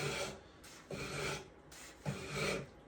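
A rasp works along a wooden rifle forestock in long, steady strokes, three broad scraping passes repeating at an even pace, close and fairly quiet with no voices.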